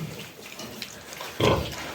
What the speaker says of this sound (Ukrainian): це у нас свиноматка подружка